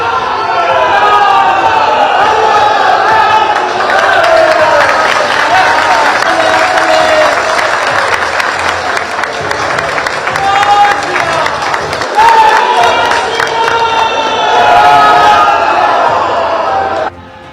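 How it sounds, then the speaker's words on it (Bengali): A large crowd raises the Jai Shri Ram slogan inside Nabanna, the West Bengal state secretariat, after a BJP election win: dense, continuous massed voices with cheers and whoops, loud and close, sustained without a break for the full length. "এভাবেই উঠলো জয় শ্রীরাম স্লোগান।"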